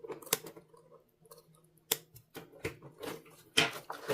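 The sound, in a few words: scissors cutting yarn on plastic canvas crochet bag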